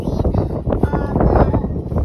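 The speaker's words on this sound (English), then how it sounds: "The wind's blowing really loud" Strong wind buffets the microphone outdoors near a hog trap, a loud, rumbling, gusting roar that surges and dips throughout, with faint voices partly buried beneath it.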